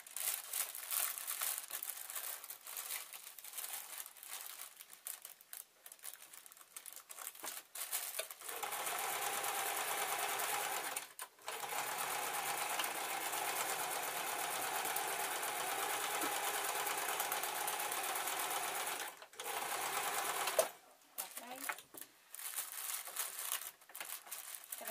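A sewing machine runs in long, fast bursts while stitching scrap cloth bean bags filled with rice for juggling, with short pauses and rustling of fabric between runs, close up and without talk.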